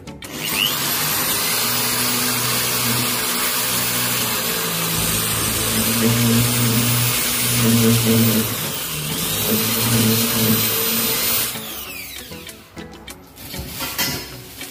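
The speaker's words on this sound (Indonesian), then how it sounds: "kita tinggal bor aja kan" A power drill whines loudly and continuously, its pitch shifting as it bites into a wall, running for over ten seconds before stopping abruptly.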